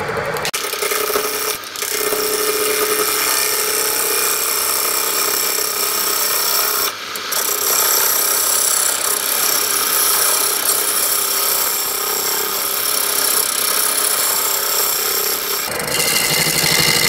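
A block of camphor laurel spins on a wood lathe while the tool cuts it, giving a steady, loud, close scraping hiss that runs almost without pause, with brief dips near the start and middle and a drop at the end.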